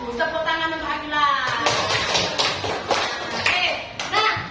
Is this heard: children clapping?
yes